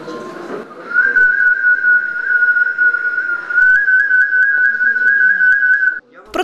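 A steady, high-pitched whistle from a wooden toy whistle holds one continuous tone for several seconds, shifting up slightly partway through, then cuts off.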